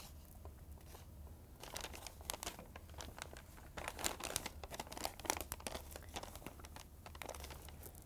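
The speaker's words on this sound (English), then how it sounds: "Add a sheet of protective paper on the top." A sheet of protective paper handled over a cap on a heat press, with soft rustling and crinkling that comes in bursts of irregular crackles, close and quiet.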